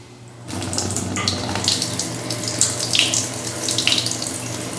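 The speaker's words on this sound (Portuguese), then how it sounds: "Deixa a água corrente." Water runs steadily from a kitchen tap into a sink while eyeglasses are rinsed, a continuous close splashing hiss that starts abruptly and carries on alone with no talk.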